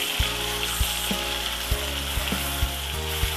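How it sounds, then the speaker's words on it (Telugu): Onion paste hits hot oil for a fish curry, a dense hiss of frying with regular low thuds as a spoon stirs and taps the pan, close and with no voices. "ఆనియన్ పేస్ట్ వేసి కొంచెం లైట్ ఇట్లా కలుపుకోవాలి."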